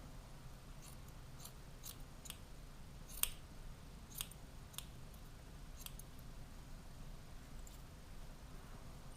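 Scissors trim a crocheted yarn pompom for a snowman, with faint, sparse snips spaced a second or so apart over a quiet room background, close by and with no voices.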